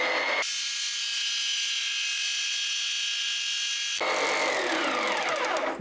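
Table saw slicing through a dowel for a urethane resin sculpture: a loud, steady high whine for a few seconds, then a sharp change as the blade spins down with falling tones.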